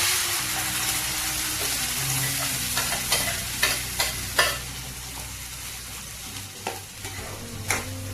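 Paste for a paneer curry frying in hot oil in a kadai, with a steady sizzle and intermittent scraping clicks of a spoon stirring it, close and fairly loud, with no voices.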